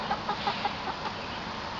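Soft, repeated Leghorn hen clucks, about five short calls evenly spaced over a steady background hiss, fairly faint and distant.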